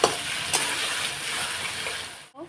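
Spices sautéing in a hot pan for Bengali dal and okra-potato fry give a continuous loud sizzle with a few stirring scrapes, cutting off abruptly near the end.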